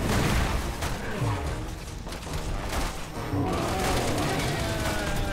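Constant loud gunfire and booming bursts in the video game Resident Evil 6, a dense, chaotic barrage with voices occasionally talking underneath.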